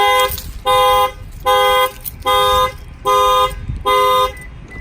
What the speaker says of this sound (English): Alarm will fire off.